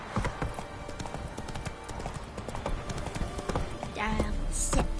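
A horse gallops in The Witcher 3 video game, its hooves drumming in a steady, fast clip-clop that carries on throughout at close range, with ambient game sound in the background.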